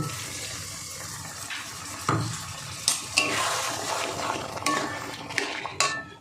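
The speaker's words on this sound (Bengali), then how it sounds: "মিক্সির বাটিটা ধুয়ে একটু জল দিয়ে দেবো" A mixer grinder jar is rinsed with water in a home kitchen, giving a steady splashing wash with a few sharp metallic clinks and knocks scattered through it. No one speaks.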